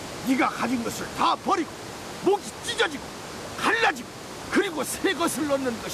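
Steady roar of a waterfall forms a broad, even rushing bed under a voice speaking throughout, the water constant and fairly close.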